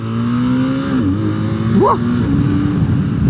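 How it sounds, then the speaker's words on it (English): A 2025 BMW R12S motorcycle engine with its stock exhaust hums steadily and loud while riding, the pitch easing down then briefly rising as the revs change, with wind noise throughout. "there's a bit of depth to the sound as well, even with the stock exhaust"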